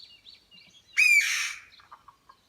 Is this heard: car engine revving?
no